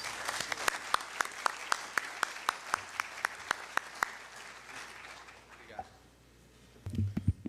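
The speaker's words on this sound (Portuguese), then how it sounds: "Vamos dar uma salva de palmas." Audience applause at the close of a forum panel on electricity transmission regulation: crisp, fairly sparse claps at a steady pace for about four seconds, then fading into near silence with a faint low rumble near the end.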